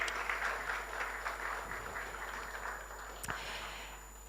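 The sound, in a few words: applause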